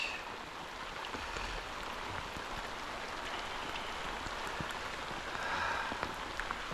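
Steady rain falls on a riverbank during catfish fishing, a soft, even hiss of drops on the surface with faint patters, continuous and fairly quiet with no talk.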